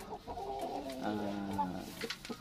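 Hens of assorted breeds cluck close by on a farm, with a run of short, throaty calls repeating steadily over a faint background.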